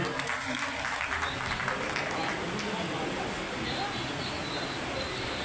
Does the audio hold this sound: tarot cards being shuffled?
no